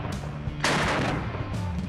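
An AK-50 rifle fired from the shoulder, heard as a couple of sharp, heavy reports with a rumbling tail, close and fairly loud over a noisy background.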